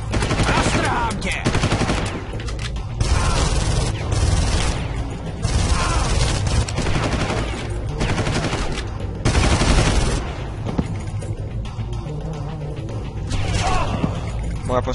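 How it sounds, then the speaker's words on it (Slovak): Rapid bursts of automatic gunfire in the video game Far Cry, with repeated loud volleys and shots filling the whole stretch over a dense game soundscape. "Moja postava pomaly strieľa."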